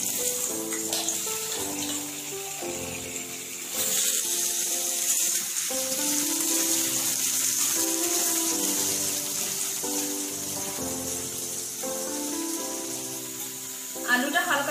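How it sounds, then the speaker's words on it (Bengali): Potato pieces frying in mustard oil in a pan, a steady bright sizzle and crackle running continuously throughout, loud and close. "আলুগুলো একটু ভেজে নেব।"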